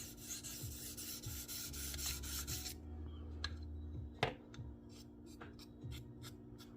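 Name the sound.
Case Sodbuster knife sharpened on TS Prof Kadet Pro sharpener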